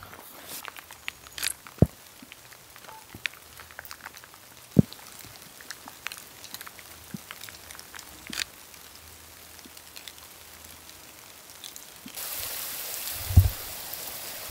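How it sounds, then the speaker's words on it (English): Rain patters steadily outside a wooden cabin, scattered drops striking surfaces close by against a soft wash of rainfall, with a louder, brighter burst of downpour near the end. "it's pouring down rain"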